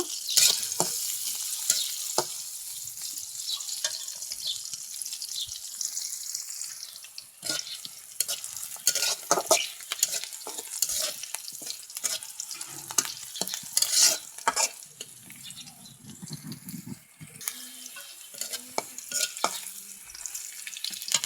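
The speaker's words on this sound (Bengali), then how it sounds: "পেঁয়াজ মরিচগুলো একটু ভাজে নিব।" Onions and green chilies fry in a pan for a vegetable curry, giving a steady crackling sizzle broken by repeated scrapes and clinks of stirring, fairly close, with no talk.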